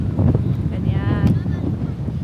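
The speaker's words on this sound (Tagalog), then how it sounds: "Ang hangin." Strong wind buffets a microphone outdoors in a park, a steady low roar with gusts the whole way through, and a voice briefly in the background.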